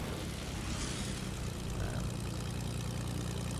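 A propeller airplane engine drones steadily in the Fortnite video game, loud and continuous throughout with no break in the rumble.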